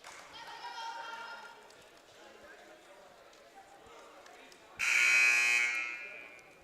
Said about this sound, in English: they'll sound the buzzer